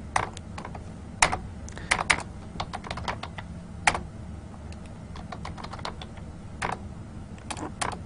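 Computer keyboard typed on while entering a command on a Cisco IOS networking device, a steady patter of quiet, close key clicks with a few sharper taps, no talk.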